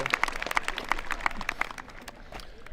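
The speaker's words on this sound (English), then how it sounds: "How about a round of applause for them?" Audience applause at a 2022 commencement ceremony for Lawrence County CTC, steady crowd clapping at moderate loudness that holds for the whole span and thins slightly toward the end.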